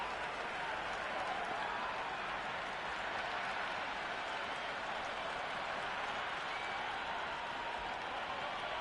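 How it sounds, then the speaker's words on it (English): Crowd noise from the stands of a Cricket 26 video game match between India and South Africa in Mumbai forms a steady, dense roar and buzz of cheering and applause, continuous and fairly distant throughout. "There's a buzz, a real buzz coming from the stands."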